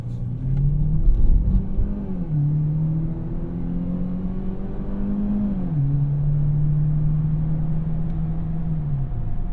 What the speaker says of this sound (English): Pulling onto the road, I'm giving it enough throttle to see how easy it gets up to speed.